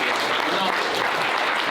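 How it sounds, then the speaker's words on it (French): Audience applause after speakers at a business breakfast on operational technology cybersecurity, a steady, dense wash of clapping filling the room throughout without a break. "vous pouvez les applaudir"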